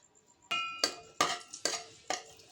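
Raisins stirred and fried in hot dalda in a pan, giving a series of five sharp metallic spoon scrapes against the pan at a steady pace, close and clear, over a faint sizzle.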